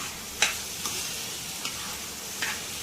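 Cashews and almonds are stirred in hot ghee in a pan for carrot halwa, with a soft continuous sizzle and a few sharp spoon scrapes and clicks spaced out against the pan.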